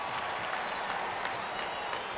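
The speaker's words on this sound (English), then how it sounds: "And there comes the celebration and the crowd loves it." A cricket crowd applauds a wicket in a tri-series match, sustained, even clapping and cheering from a large stadium audience that fills the whole stretch.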